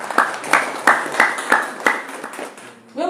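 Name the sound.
audience applause for the city of Yogyakarta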